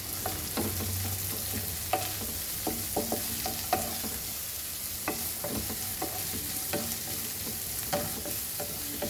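Green chilies tossed into cluster beans frying in a pan, giving a continuous close sizzle broken by frequent clicks and scrapes of stirring and pieces dropping in.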